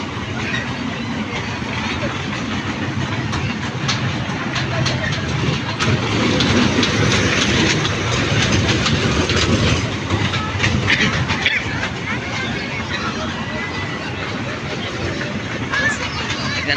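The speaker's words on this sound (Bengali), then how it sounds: "বাচ্চাদের খেলার জন্য ট্রেন সার্ভিস আছে।" A children's amusement train ride runs at a handloom and handicraft fair on an open ground, its steady clickety-clack rumbling continuously and fairly close, with a crowd's babble and voices mixed in throughout.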